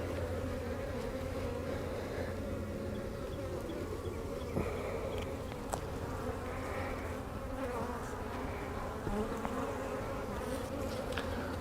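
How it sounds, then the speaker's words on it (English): Dense, steady buzzing of many honeybees crowded close together inside an opened brood box during a spring hive inspection, a continuous droning hum with occasional brief louder passes near the listener. "Man, there's a lot of bees in here."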